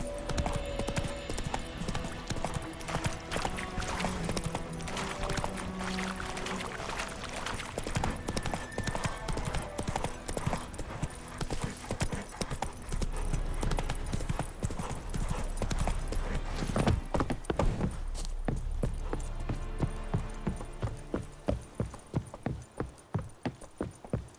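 Horse hooves gallop in the video game The Witcher 3, a fast, steady clip-clop rhythm that runs loud and close for most of the stretch before slowing and fading near the end, over game ambience and music.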